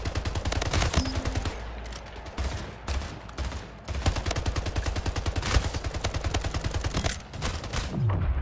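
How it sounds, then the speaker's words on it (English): Assault rifle fire in the game Splitgate, rapid evenly spaced shots in long bursts with short breaks between them, close and loud. "Oh, gotta switch to assault rifle."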